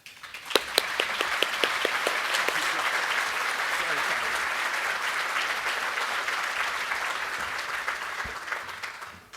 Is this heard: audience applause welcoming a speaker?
yes